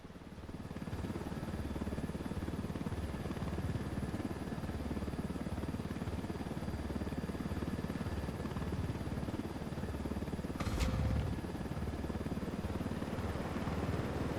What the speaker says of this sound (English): Let's take these choppers out.